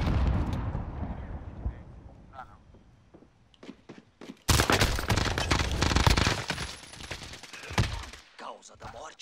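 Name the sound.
grenade explosion and gunfire in a video game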